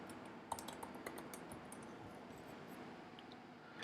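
A computer keyboard is being typed on quietly and fairly close, a rapid run of light key clicks lasting a few seconds with no talk.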